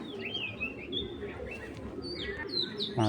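A racing pigeon calls with short chirps and soft coos close by, over a steady murmur of background noise, ending in a louder closing note.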